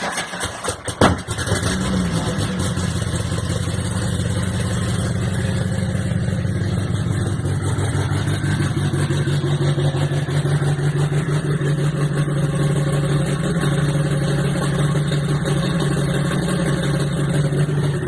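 A turbocharged Volkswagen AP car engine fires up with a sharp start, then runs steadily close by, holding a loud, rough idle with a slight rise in revs later on.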